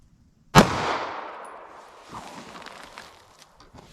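A single sharp gunshot from a short-barrel pistol firing a 147 grain 9mm round cracks loudly outdoors, then its echo trails off and fades over the next few seconds.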